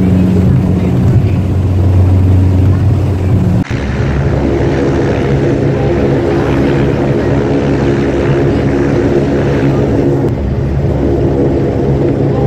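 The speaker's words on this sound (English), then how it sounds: "coming into land now, this is Wynyard Airport, or Burnie Airport if you like." Propeller airliner descending to land at Burnie (Wynyard) Airport, its steady loud engine drone filling the cabin with a low hum throughout, with a brief shift in tone partway through.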